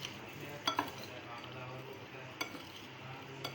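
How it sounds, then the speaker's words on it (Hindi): Lemon and green chilli pickle masala being stirred and mixed in a bowl, a soft continuous scraping under room noise with a few light clinks of a spoon against the dish. "इसको अब हम मिक्स कर लेंगे"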